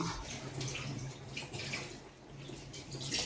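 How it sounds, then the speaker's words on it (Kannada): Tamarind water pours into a pot of Mangalore temple-style cucumber sambar, a soft, continuous watery splash and trickle heard faintly and steadily at close range. "ಈಗ ಹುಣಸೆ ಹಣ್ಣಿನ ನೀರನ್ನು ಹಾಕಿ"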